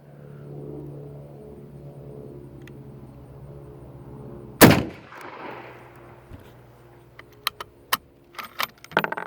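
A single sharp, loud rifle shot from a 6.5x52 Carcano carbine fired at a paper target outdoors cuts through a low engine-like hum, followed by a decaying rumble and then a run of small metallic clicks and handling taps.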